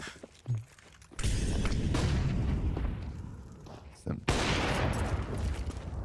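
Counter-Strike match gunfire at a BLAST Premier pro tournament: dense, loud bursts of rifle fire and impacts fill most of the stretch, with a brief lull before another heavy volley, under faint caster chatter.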